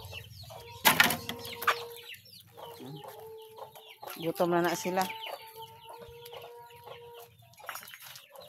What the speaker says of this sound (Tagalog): Yan apa ko yung mga gagmay nga manok